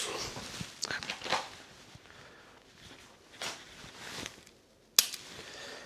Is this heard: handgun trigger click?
yes